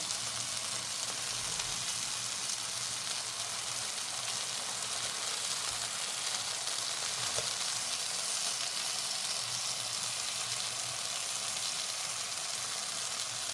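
Steady, dense sizzle of a breakfast dish frying in a pan, continuous and close throughout with no talking.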